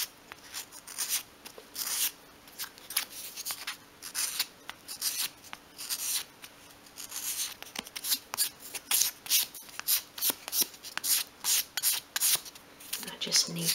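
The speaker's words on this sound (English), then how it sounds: "just sweeping the sandpaper from front to back" Fine grade sandpaper sweeps front to back over the corners of a miniature 1/12 scale serving tray in soft, rhythmic rasping strokes, close and faint, quickening toward the end.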